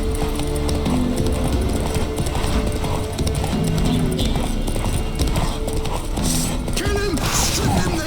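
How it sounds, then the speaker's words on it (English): A horse gallops in The Witcher 3 video game, its hooves clip-clopping in a fast, steady rhythm that stays loud and close throughout, with some mechanical clatter and game sounds mixed in. "Run, Roach."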